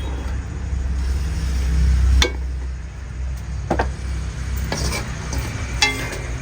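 Spicy chicken fry sizzles steadily in a pan while a spoon stirs it, and a few sharp scrapes and clinks come through. A louder frying surge early on drops off as water is poured in.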